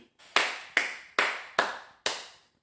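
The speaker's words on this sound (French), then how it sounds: "Donc, 1 minute d'applaudissement pour Franck Ribéry." Five sharp hand claps in a slow, even rhythm, close and distinct, each with a short decaying tail, given as a small tribute to footballer Franck Ribéry.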